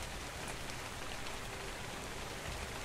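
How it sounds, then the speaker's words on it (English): Steady rain in the video game ARK: Survival Evolved, a dense, even hiss of falling drops filling the whole stretch without pause, moderately quiet and alone. "Oh, there's loads of rain."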